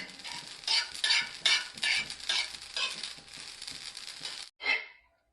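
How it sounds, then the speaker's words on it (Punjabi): Leaves and mustard seeds dry-roasted on a griddle, heard as a loud close crackling sizzle with rhythmic scraping stirs that stops briefly near the end before one last stroke. "ਇਹਨੂੰ ਆਪਾਂ ਚੰਗੀ ਤਰ੍ਹਾਂ ਭੁੰਨ ਲੈਣਾ ਤਵੇ ਦੇ ਉੱਪਰ"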